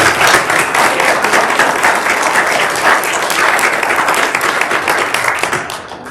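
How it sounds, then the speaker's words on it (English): A pitch competition audience gives a steady, dense round of applause that holds for several seconds and then begins to fade toward the end. "one more round of applause for all of the teams that have gone so far"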